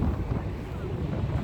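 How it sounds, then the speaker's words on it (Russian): Strong wind in Iceland buffets the microphone in a constant low roar, with gusty rumbling and a faint watery wash behind it. "Ветер задувает хорошо так."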